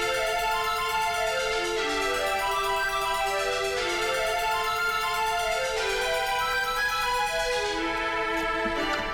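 From a video game battle theme, a rapid arpeggio of single notes cycles up and down over sustained string chords, the layers blending into a full, loud, continuous texture that thins slightly at the end.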